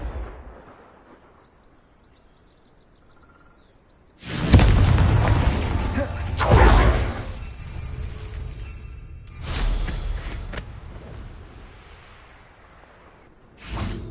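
Confringo explosion spells from the Hogwarts Legacy video game: booming blasts with crackling bursts, a loud one after a quiet stretch, followed by several more, the last starting abruptly at the end.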